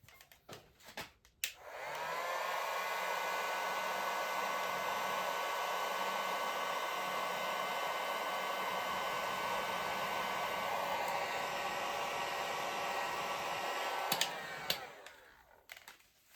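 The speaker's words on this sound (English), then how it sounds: "with the heat shrink tubing over our wire, let's go ahead and use our heat gun." A heat gun blows hot air onto heat shrink tubing slid over a soldered wire splice, a steady close whooshing roar of about twelve seconds, with clicks as it switches on and off.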